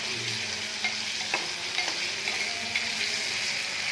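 A tempering of onion, garlic, tomato, curry leaves and green chilli fries in a pan with a steady, moderately quiet sizzle, marked by a few soft scraping stirs scattered throughout.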